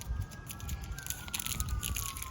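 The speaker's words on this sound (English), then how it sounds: "Sorry for the sirens." A siren wails faintly in the distance, a thin rising and falling tone over low background rumble.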